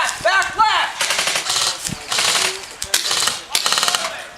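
Rapid bursts of airsoft gunfire crack out in a Counterstrike-style airsoft skirmish, several fast volleys in close succession with short gaps, loud and near, with a shout or two mixed in.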